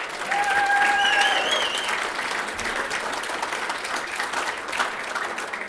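Applause from an awards-evening audience for an organizer, steady crowd clapping that starts strong and settles into a continuous moderate patter, with a couple of brief whistles early on.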